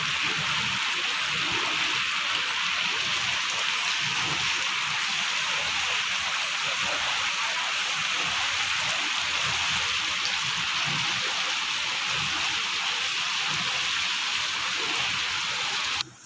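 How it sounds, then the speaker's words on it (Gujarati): Heavy rain pours down steadily in Kutch, Gujarat, a dense, continuous hiss of water drumming on surfaces, loud and unbroken throughout with no voices. "એકદમ ફૂલ વરસાદ ચાલુ હે."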